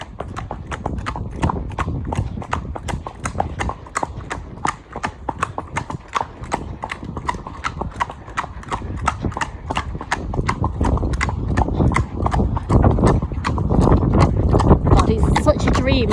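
A horse named Elvis being hacked out, its hooves clip-clopping in a steady, quick rhythm for the whole stretch, fairly close and loud, with wind or movement noise building toward the end and a voice occasionally heard.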